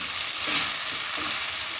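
Grated yellow pumpkin sautés in a pan over a slow flame for pumpkin halwa, giving a steady, close hissing sizzle with faint stirring and no voices.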